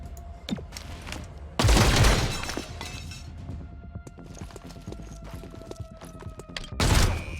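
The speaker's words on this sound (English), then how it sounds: "Start shooting at him" Bursts of gunfire in the XCOM: Chimera Squad video game, two loud broadband volleys standing out over a steady game soundscape with scattered sharp impacts between them.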